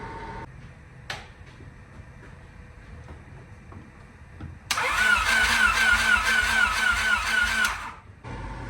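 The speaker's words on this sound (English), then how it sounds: "we got it to start on starting fluid" A Honda Civic engine cranks and catches on starting fluid, running loud and steady for about three seconds before cutting out, after a quiet stretch with a sharp click.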